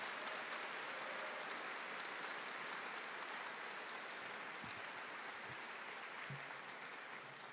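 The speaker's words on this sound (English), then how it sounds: "Let's have one last applause for all of those folks." Audience applause fills an engineering graduate recognition ceremony, a dense, steady wash of many hands clapping together that holds at an even level throughout and fades only slightly near the end, with no voices over it.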